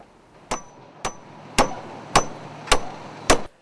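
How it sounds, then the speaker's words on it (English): Labourers drive nails into loose wooden planks on a road bridge, six sharp hammer blows landing at a steady, evenly spaced rhythm, close and clear over faint background hum. "Labourers quickly hammer a nail into the loose planks as soon as the vehicle movement stops."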